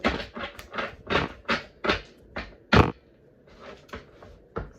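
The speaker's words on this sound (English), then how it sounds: "Shuffle a few times." Oracle card deck being shuffled by hand: a series of sharp, fairly loud riffling bursts in an uneven rhythm, close up, with brief pauses between them.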